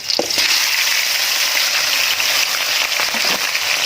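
Pork for adobo frying in a hot pan, a loud steady hiss of sizzling fat with a few faint clinks and stirring touches, close and continuous with no one speaking.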